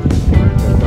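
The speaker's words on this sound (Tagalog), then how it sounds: "So may kalakasan ng hangin ngayon." Strong wind buffets the microphone in a loud, low, rumbling roar for a moment, with no speech.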